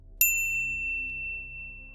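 A single bright notification bell ding strikes once, close and clear, then rings out with a long fading shimmer.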